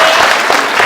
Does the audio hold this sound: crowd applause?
yes